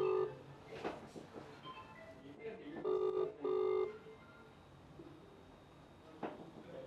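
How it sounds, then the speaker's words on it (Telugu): Incoming video call ringtone on a phone: a loud repeating electronic tone in short bursts, with a voice speaking over the ringing. "ఐ థింక్ ఈ పాటికి మీకు ఒక వీడియో కాల్ రావాలి."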